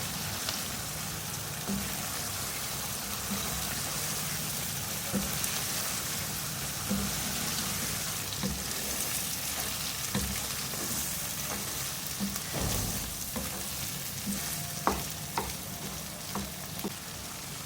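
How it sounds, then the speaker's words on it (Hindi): Bread frying in oil with brain (maghaz) masala gives a steady, close sizzle throughout, with occasional soft clicks and stirring scrapes and no talking. "ब्रेड डाल के भी भुनाई करूँगी मैं इसकी आराम आराम से।"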